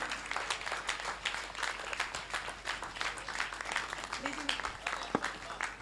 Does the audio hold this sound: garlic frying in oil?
no